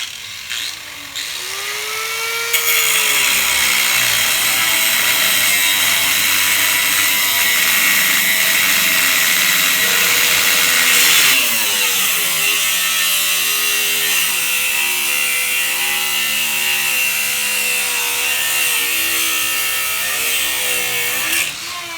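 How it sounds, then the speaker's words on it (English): Old, rusty sway bar bottom links on the front suspension of a 1955 Buick Special are cut with a loud power tool, running as a steady, continuous grinding whine for most of the time, with a rise and shift in pitch partway through. "Just going to cut these bottom links."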